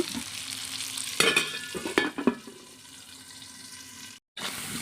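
Potatoes seasoned with turmeric and salt fry in a pan with a steady soft sizzle. Several sharp clinks and scrapes from stirring cut through, with no talking.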